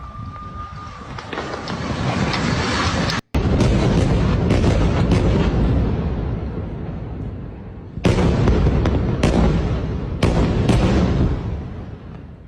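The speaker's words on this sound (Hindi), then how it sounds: "लगातार बमबारी की आवाज़ भी सुनाई दे रही है" Heavy bombardment in Gaza rumbles as a loud, sustained roar of explosions with sharp booming hits rising out of the din, distant but powerful throughout.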